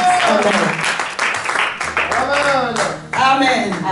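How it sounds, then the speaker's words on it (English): A church congregation claps while the choir returns to its seats. The clapping is loud and continuous, with voices talking over it and a singing voice cutting in now and then. "Can we clap our hands while the choir is going back to their seats?"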